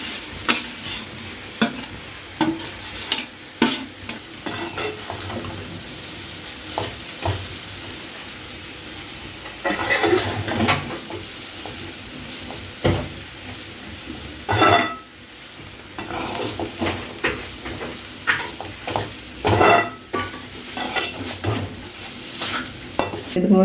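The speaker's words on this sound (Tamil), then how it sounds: "இப்போ செதுக்கி வச்சுருக்கிற வாழைக்காய் போட்டு அந்த எண்ணெய் தரசத்தோடு போட்டு கிண்டணும்" Chopped plantain frying in oil with onion and curry leaves is stirred in a pan, with a steady sizzle and repeated scraping strokes of the spoon, fairly close, with no one talking.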